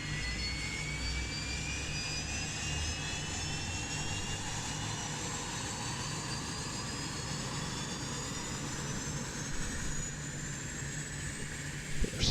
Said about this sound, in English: So we'll just reverse thrust back.